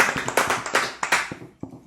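Hands clap in a quick, uneven burst of applause, sharp close claps at a fairly steady rhythm that thins out toward the end, with no talk over them.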